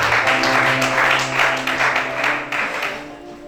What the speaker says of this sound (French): Acclame chacun.